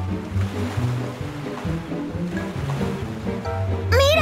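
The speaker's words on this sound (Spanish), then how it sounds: "¡Por eso las olas son tan violentas!" Violent ocean waves roar as a continuous, loud surging wash in a cartoon, with a brief tonal whoosh rising at the very end.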